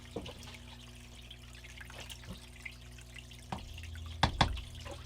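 Water runs and trickles through a gold sluice loaded with paydirt from a desert mining claim, a faint steady flow punctuated by scattered drips and small splashes, heard up close with no voices.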